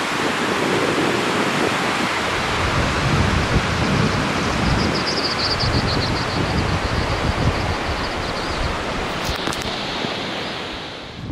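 Big river rushing beneath a narrow one-lane bridge near Thurmond, West Virginia, a loud continuous roar of churning water that holds steady throughout.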